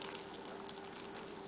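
Hot water pours into a mug for hot chocolate, a close, continuous bubbling splash with a steady tone throughout.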